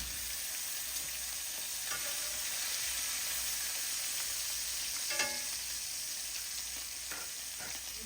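Bacon fries in a pan with a continuous, even crackling sizzle, joined by a few faint clicks and scrapes.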